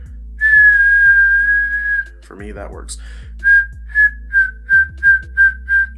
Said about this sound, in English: Find a whistle note outwards that you're comfortable with.